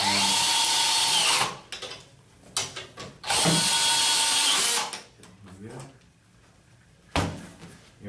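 Two loud, sustained whirs of a power drill driving a Torx screw into a 1996-2002 Chevy Express van panel, each lasting over a second, followed by a brief third spin near the end, with quieter handling noises between.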